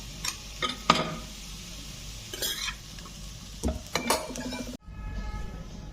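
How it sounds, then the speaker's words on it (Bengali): Half-boiled potato and papaya pieces scooped from a pan into a bowl, with a few close, distinct scrapes and clinks of a spoon against the metal pan and a soft clatter near the end. "তো এখন আমি এটা বাটিতে উঠিয়ে নিচ্ছি"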